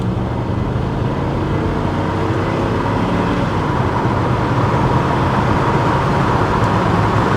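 A Range Rover engine runs while driving, a loud, constant drone mixed with road and cabin noise, steady throughout with no pauses or voices.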